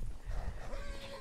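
A horse whinnies in a video game with a rising, drawn-out tone over a busy background of low rumbles and clatter, fairly close and moderately loud.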